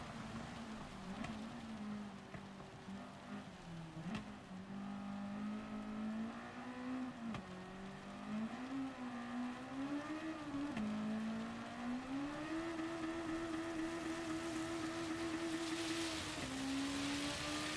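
A race car engine in Gran Turismo 7 on PS4, held at high revs against the limiter, a loud, sustained buzzing drone that wavers slightly in pitch and climbs toward the end, with no speech.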